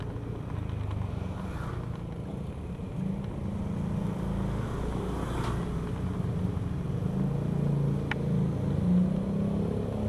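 Motorbikes ridden along a busy, narrow street lined with stalls, a steady engine rumble with vehicles passing close by and faint background bustle.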